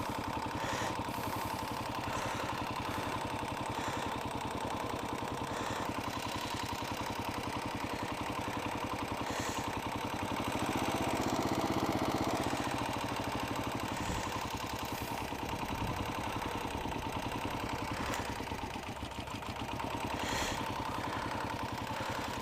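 A dual sport motorcycle engine running steadily at low speed, a continuous mid-pitched rumble with a slight rise in revs midway before settling back.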